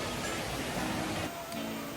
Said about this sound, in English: Welcome to Cascade de Wome, one of the many beautiful waterfalls in Togo.